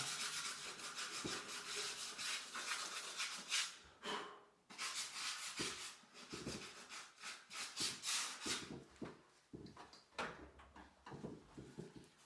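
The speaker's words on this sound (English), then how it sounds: "I'm just using a bit of worn down 80 grade sandpaper and we're just cleaning it up." A wall being prepared for repapering is rubbed down by hand with worn 80 grit sandpaper, giving quiet, uneven scratchy strokes in irregular bursts with brief gaps, heard alone.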